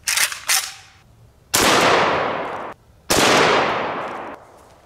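AK-47 rifle firing 7.62x39 full metal jacket rounds at a steel Olympic weight plate, several sharp loud reports with the last two spaced about 1.5 seconds apart, each followed by a long echoing decay outdoors.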